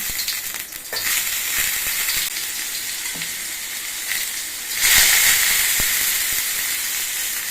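Chopped tomato goes into a hot pan while making coconut chutney, sizzling and hissing steadily with a few soft knocks, then the frying flares louder about two-thirds of the way in.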